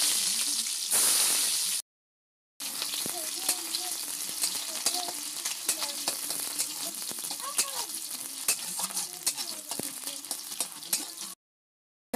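Cumin seeds and chopped onion frying in hot oil, a close, lively crackling sizzle with frequent stirring clatter. The sound cuts out briefly near the start and again at the very end.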